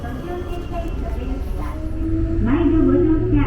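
A Mizuma Railway train ride out of Kaizuka, heard from inside the car: a continuous low rolling rumble that swells louder, with a brief metallic squeal near the end.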